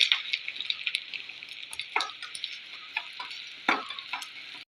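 Grated coconut stirred into hot coconut oil after mustard seeds have popped, giving a steady close sizzle with scattered spatters and scraping stir strokes, no voices.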